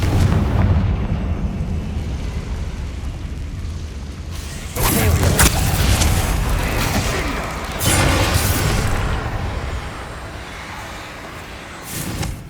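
Confringo, an explosion spell in the video game Hogwarts Legacy, erupts in several booming blasts spaced a few seconds apart over steady game ambience.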